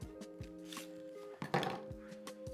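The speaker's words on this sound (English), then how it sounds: "we're going to cut our onion" Knife chopping an onion on a cutting board, a quick run of soft, close, evenly spaced taps with a slightly heavier thud near the middle, faint and without talk.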